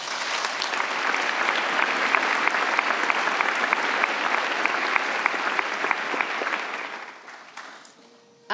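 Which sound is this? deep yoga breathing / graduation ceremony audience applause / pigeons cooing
graduation ceremony audience applause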